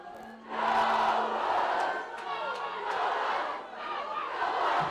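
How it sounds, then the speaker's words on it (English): A school rugby crowd at an under-18 match between Windhoek High School and St. Peter's School York roars and whoops, loud sustained cheering and shouting rising after a quiet start. "The VRS crowd just getting riled up here."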